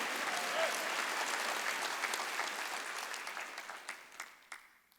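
Church congregation applause during a Wednesday worship service, many hands clapping steadily and fairly near, then thinning into scattered claps as it fades out toward the end.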